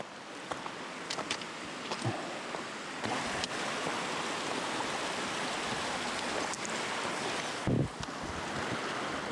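Steady rushing water of a mountain creek flows nearby, a continuous broadband wash with faint wind noise and a few soft knocks.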